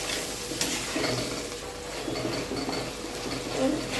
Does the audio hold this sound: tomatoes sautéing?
yes